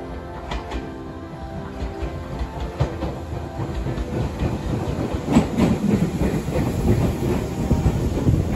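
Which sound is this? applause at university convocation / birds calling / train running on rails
train running on rails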